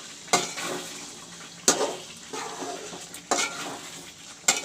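Steady sizzling of chicken frying with masala in a pan for chicken curry, broken by a few sharp scraping stirs at regular intervals.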